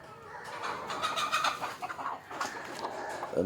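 Country chickens in a morning yard, being fed old rice, cluck in a steady, overlapping chatter at moderate loudness, with small peaks of louder clucks throughout.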